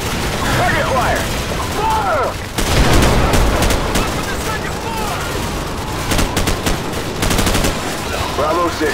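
Rapid gunfire from Call of Duty 4: Modern Warfare, loud machine-gun bursts and overlapping shots in a dense battle mix, with voices talking over the shooting throughout.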